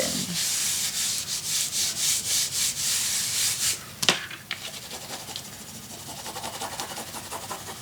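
Paper is rubbed down firmly onto glue for a small scrapbook mini album, giving several seconds of close, rhythmic scratchy strokes before the sound thins into softer, fainter rubbing.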